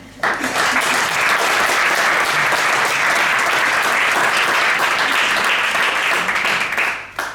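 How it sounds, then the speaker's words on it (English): Loud, dense audience applause at a FameLab science-communication semi-final in Basel, welcoming a speaker to the stage; it swells in quickly, holds steady throughout and fades out near the end. "a big applause for Lisa."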